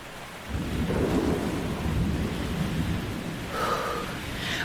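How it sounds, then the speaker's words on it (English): A thunderstorm with pouring rain at sea, used as a dramatic sound effect: a deep rumble of thunder rolls over steady rainfall, then a second, brighter crack comes near the end. "Suddenly, the ship began to rock, rain poured from the sky, and the sea bellowed loudly."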